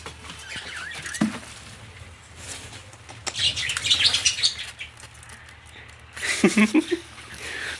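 Pigeons and chickens in a backyard coop give soft fluttering wingbeats, scratching patter and brief chirps, rising in bursts of flapping near the end, with faint background noise.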